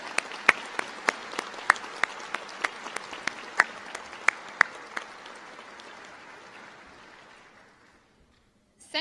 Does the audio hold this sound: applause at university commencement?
yes